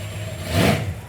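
A muscle car at a Montrose-Glendale Christmas parade gives a short engine rev that swells to a peak and then eases off, close by and fairly loud.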